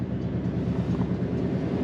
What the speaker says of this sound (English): Train's gone.